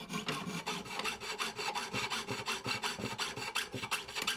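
Hand-sawing a bronze flame-shaped ornament pattern in an engraver's workshop, a close, quiet rasping saw stroke repeated rhythmically back and forth, about three to four strokes per second, with no talk.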